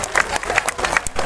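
Audience clapping for a woman singer at a Bhim Jayanti celebration, a dense, steady burst of many hands close by with a hint of crowd noise.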